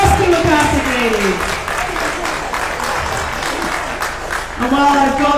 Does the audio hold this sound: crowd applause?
yes